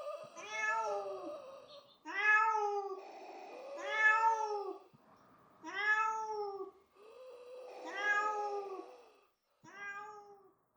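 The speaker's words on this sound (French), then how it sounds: "Photon se mit à miauler pour les soutenir." A cat meows repeatedly, about six drawn-out, wavering cries with short pauses between them, close and clear with no other sounds.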